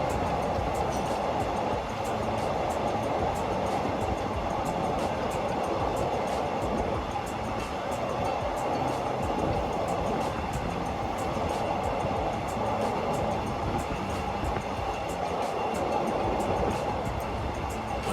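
Train heading toward Bang Sue Junction station in Bangkok, near high-speed railway construction: a steady, broad rumble and rolling roar that holds level throughout, heard from a distance.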